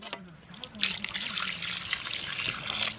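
Water poured into a pot of chicken gravy, a splashing trickle running under a voice speaking in the background.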